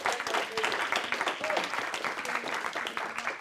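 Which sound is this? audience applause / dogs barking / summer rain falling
audience applause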